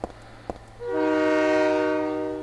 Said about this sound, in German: Oh, jetzt kommt ein Zug.